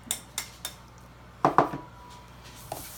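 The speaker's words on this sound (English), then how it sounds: "First, crack your first large egg up against" A large egg cracked against the rim of a bowl, giving two sharp close taps in quick succession with a few lighter clinks of kitchenware before and after.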